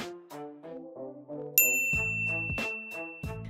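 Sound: notification bell ding sound effect

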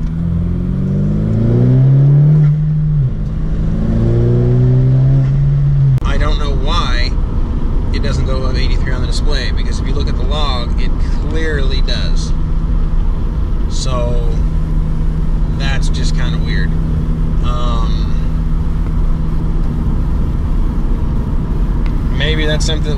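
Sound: 2017 Honda Civic engine revving and rev hang

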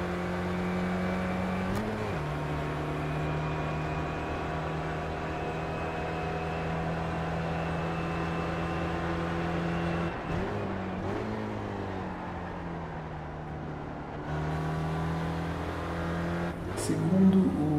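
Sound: Spec Racer race car engine from iRacing video game

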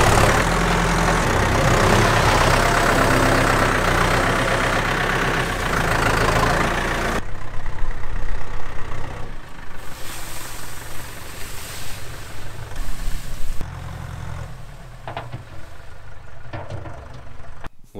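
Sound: chipper machine spreading bedding in a dairy barn

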